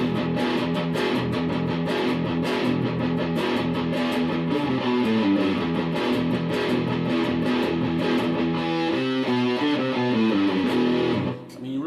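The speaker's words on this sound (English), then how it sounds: "Can get some really good, nice distortion sound." A heavily distorted electric guitar plays chugging riffs and sustained chords through an Orange Crush CR120C 2x12 combo amp, loud and continuous, with no talking.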